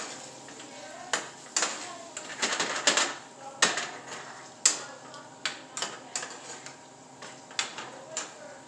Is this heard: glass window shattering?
no